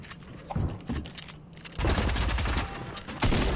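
Gunfire bursts in an arena duo battle royale game, with dense rapid shots that grow louder and more sustained in the second half, partly alongside clopping hoof-like mechanical sounds.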